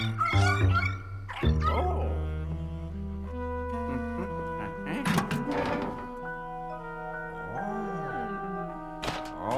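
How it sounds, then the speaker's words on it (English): Cartoonish dog barks from the Luigi's Mansion 3 video game, a couple of sharp yips near the start and a later bark among game music and effects. "How many times is this dog gonna scare him?"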